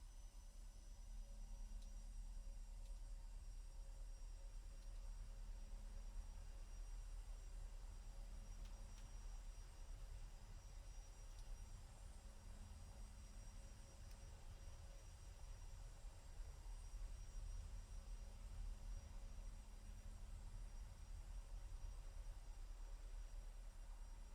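A steady airplane engine drone hums from an aircraft taxiing toward runway 09 in a flight simulator game, a constant low rumble with a faint whine on top, unchanging and without voices.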